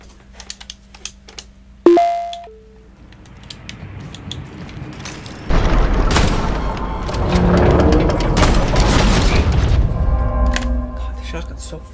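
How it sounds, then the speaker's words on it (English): Shotgun blasts in the video game Atomic Heart, a sharp loud shot followed by heavy, sustained combat noise with clattering mechanical sounds, under background chatter. "the shotgun's so fucking ass at half the time"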